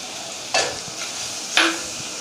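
Liver curry (kaleji salan) being stirred in a pan, two distinct scraping sweeps of a spoon over a steady background sizzle, close and fairly loud, with no talking.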